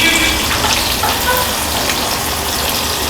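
Masoor dal frying in hot oil for Bombay mixture makes a loud, close, continuous crackle of bubbling and popping that holds steady throughout without talk.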